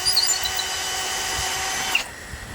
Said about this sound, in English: And we're using a drill.